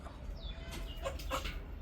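Native country chickens in a cage setup in Chennai cluck in short bursts amid a busy background of bird calls, close by and moderately loud.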